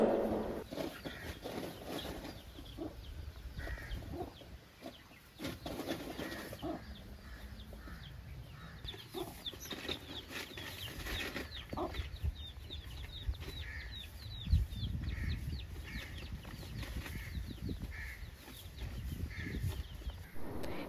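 Chickens cluck on a village farm near Pollachi in Tamil Nadu, beside a cattle shed. Faint, scattered clucks and calls come from a distance over low outdoor background noise.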